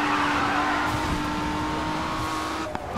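Car skidding in a night racing video game, tires scrubbing under a steady engine drone that holds close and loud throughout, with the handbrake pulled to swing the car around a corner.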